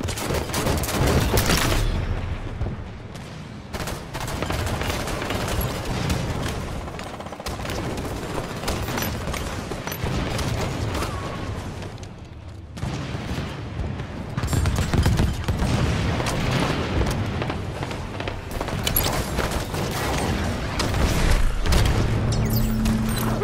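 Gunfire in the video game Halo 5, dense bursts of rapid shots and booms, loud and sustained for over twenty seconds with brief lulls between volleys.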